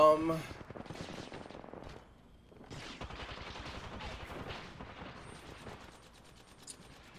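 Gunfire bursts from an Apex Legends match, rapid cracking volleys spread through the clip at moderate level, with players chatting over the shots.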